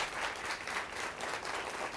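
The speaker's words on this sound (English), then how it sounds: "Give Sharon a huge round of applause." A studio audience on a live variety show applauds for a guest named Sharon, with steady, dense clapping sustained throughout at even loudness and no talk over it.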